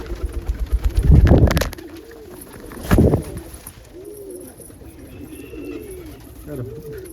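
Indian fantail pigeons coo softly in a loft, with repeated low, rounded calls that rise and fall, mixed with wing flutters and handling noises near the start.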